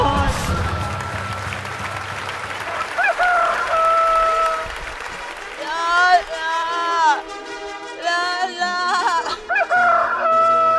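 A rooster crows several times in a Vietnamese stage comedy, its rising-and-falling calls repeating over audience applause and laughter, with people talking underneath.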